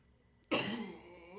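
A single harsh cough bursts out close up after a quiet moment, followed by a brief raspy tail as it fades.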